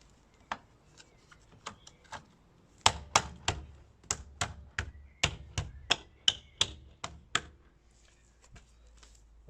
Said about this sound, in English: we stick the wheel trim back on.